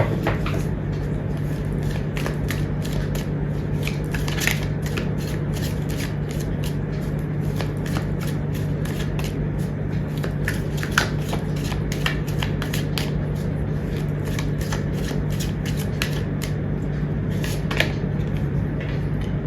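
Tarot cards are shuffled and drawn from a deck, giving a steady run of soft papery riffles and flicks with sharper snaps now and then, close up and alone over a constant low hum.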